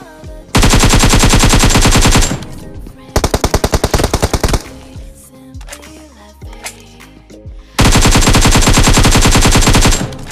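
Bursts of automatic machine gun fire in PUBG Mobile, a squad firefight: a long sustained volley, a shorter rapid run of distinct shots, scattered lighter game sounds, then another loud sustained burst.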